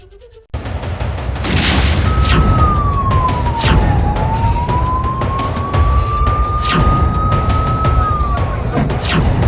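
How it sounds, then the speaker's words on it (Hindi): A wailing ambulance siren rises and falls steadily over a loud, dense rumble of crowd noise and commotion after a bomb blast at a convention center in Kerala, with occasional sharp bangs. "एम्बुलेंस का सायरन सुनाई दे रहा है।"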